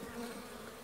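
Honeybees buzz inside a weak hive during an inspection, a faint steady droning hum with no breaks over the short stretch.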